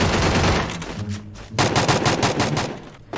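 Rapid automatic gunfire in the Free Fire battle game, loud dense bursts of shots crackling continuously with a brief dip in the middle before another burst, no speech.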